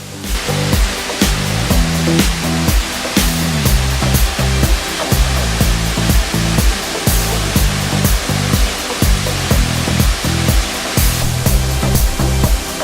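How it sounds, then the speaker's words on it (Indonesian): The first tier of Sarasah waterfall at Ulu Gadut roars as a loud, dense, continuous rush of falling water up close, with pulsing surges in the spray and no voices. "Air terjun tingkat pertamanya."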